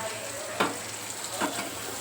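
Tanjariya greens sizzle in a hot pan with tomatoes, a steady close frying hiss broken by two louder bursts of stirring.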